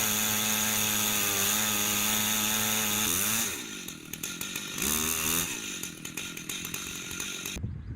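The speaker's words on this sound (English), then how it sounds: "For the mid-sized ones, the Alaskan chainsaw mill gets the job done." A chainsaw on an Alaskan chainsaw mill runs at a steady high whine, then its pitch drops and roughens as it bites into a log and keeps cutting.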